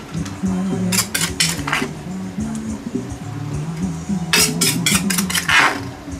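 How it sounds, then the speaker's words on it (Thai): Plates and cutlery clatter and clink at a Thai papaya salad stall serving fresh crab and fermented fish som tam, with two bursts of bright dish knocks over a steady tonal background of music. "เดี๋ยวหาจานใส่ก่อน"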